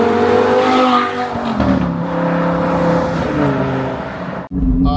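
An Audi R8 V10 fitted with a Gintani exhaust roars loudly and steadily, its high-pitched engine note climbing through revs before a brief dropout and sharp return near the end.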